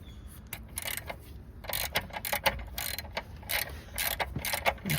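A ratchet fitted with a 17mm socket and small extension works the oil drain plug on a 2017 Hyundai Sonata, giving bursts of rapid, close clicking in repeated strokes with short pauses between them.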